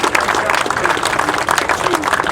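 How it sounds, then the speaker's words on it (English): A crowd claps for Chris and Phil Small, a short, fairly loud burst of dense applause with some mixed crowd noise. "Round of applause for you,"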